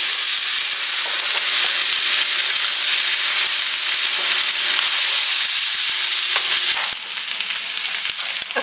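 Potatoes frying in olive oil in a skillet, a loud, steady close-up sizzle and crackle that holds constant, then eases slightly near the end.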